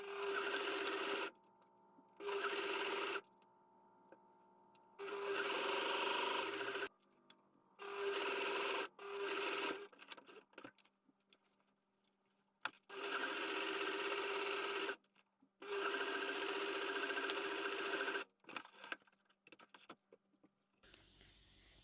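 A sewing machine stitches the side seams of a reusable fabric mask. The close, rapid motor whirs come in several start-stop bursts separated by quiet pauses, with no talking.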